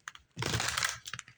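Oracle cards for a tarot reading being shuffled by hand, a quick riffling rush lasting about half a second, framed by light tapping clicks of the cards, close and soft.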